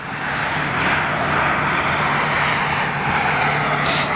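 A 28-year-old Boeing 747 jet taxiing on its final flight, a steady broad engine roar and whine held at a constant loud level without a break.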